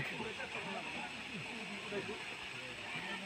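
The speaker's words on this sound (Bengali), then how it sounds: "আপনারা যে ঝর্ণা দেখতে পাচ্ছেন" The Risang waterfall near Alutila in Khagrachari, Bangladesh, makes a steady, even rush of falling water at a low, constant level, with faint voices murmuring underneath.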